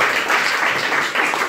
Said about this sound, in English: So clap, clap for all.